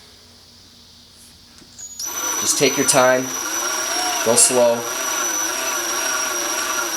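An electric drill spins up and bores into the welch plug of a motorcycle carburetor, a steady high whine running close and continuous under a man's calm instructions.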